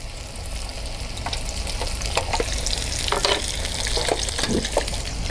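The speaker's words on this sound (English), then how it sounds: "when you cook a Schnitzel, you want to make sure that you move the pan as much as you can." A breaded schnitzel frying in oil in a pan, giving off a steady, dense crackling sizzle with scattered sharper pops, close and continuous with no talk.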